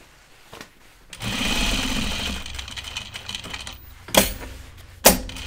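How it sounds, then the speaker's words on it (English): Ginger jeans are stitched on a sewing machine that starts with a close, busy mechanical whirring burst and slows to lighter running, followed by two sharp clacks near the end. "I'm gonna do two stitches across the top."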